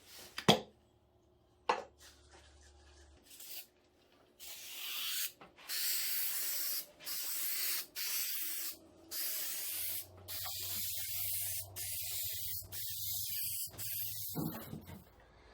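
A spray can hisses in a series of short and longer bursts separated by brief pauses, close and clear, with a couple of sharp knocks early on.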